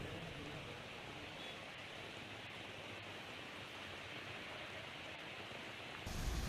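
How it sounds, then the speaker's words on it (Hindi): Heavy monsoon rain pours steadily over Delhi NCR in a dense, even hiss that swells a little louder near the end, with no talk heard. "झमाझम सुबह से ही बारिश हो रही है दिल्ली एनसीआर के इलाकों में"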